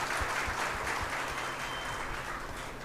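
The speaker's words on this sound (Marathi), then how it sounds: "ह्या पोलीस अंमलदारांसाठी सुद्धा एकदा जोरदार टाळ्या झाल्या पाहिजे मित्रांनो." An audience applauds police officers at a gratitude ceremony and student gathering, steady dense clapping held at a constant level for the full stretch, fairly near and with no talk over it.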